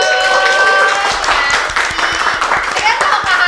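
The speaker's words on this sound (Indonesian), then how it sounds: "siap, tepuk tangannya dong" A crowd claps steadily with scattered individual claps, while a voice talks over the applause.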